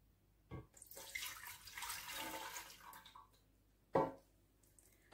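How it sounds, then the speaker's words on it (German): Milk pours into a bread machine pan in one steady liquid splash of about two and a half seconds, followed by a couple of short knocks or taps, with no talking. "Zuerst füllen wir die Milch hinein."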